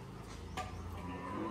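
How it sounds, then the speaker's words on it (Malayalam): Cattle lowing faintly at a spot with many cows in Hyderabad, a distant moo carried under steady outdoor background noise with a brief louder burst partway through. "അവിടെ ഒരുപാട് പശുക്കളൊക്കെ ഉള്ളൊരു സ്ഥലമുണ്ട്."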